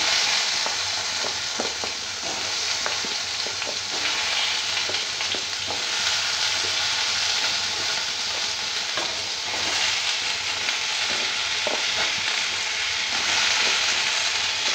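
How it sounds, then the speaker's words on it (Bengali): Potato and pumpkin pieces fry in a pan of oil for Bengali kumro chhakka, a steady dense sizzle running throughout with frequent scraping clicks of stirring, close and fairly loud, with no talking. "এটা ভালো করে একটু ভেজে নিতে হবে।"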